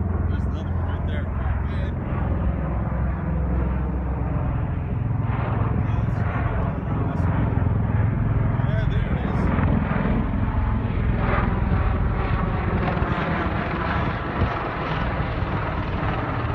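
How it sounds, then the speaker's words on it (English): A V-22 Osprey tiltrotor flies low overhead around a campus, its heavy rotor drone and thrum steady and loud throughout, with people talking beneath it. "Must be the new helicopters Obama uses."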